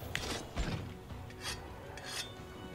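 Weapon being sharpened with a whetstone in Monster Hunter World, a series of rasping scrapes repeated in a steady rhythm, fairly close and moderately loud with no talk over it.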